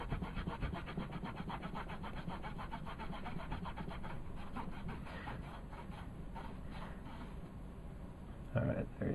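A rag rubs back and forth across an NES game cartridge in quick, rhythmic scrubbing strokes, faint and close, with a short louder bump at the end.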